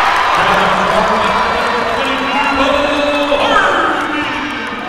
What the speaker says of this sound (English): Hayesville crowd getting loud.